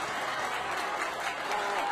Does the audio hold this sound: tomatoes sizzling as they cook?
no